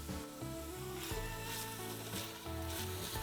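Garlic sizzles and fries steadily in a pot with onions and anchovies for a mussel marinara pasta sauce, a continuous crackle sitting under a layer of tonal background sound.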